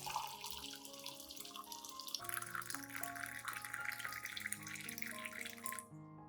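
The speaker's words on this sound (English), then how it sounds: "Then add approximately 500 milliliters of hot water." Hot water, about 500 ml, pours steadily into a clean glass cup, a continuous splashing stream with a rising ringing pitch as the glass fills, stopping abruptly near the end.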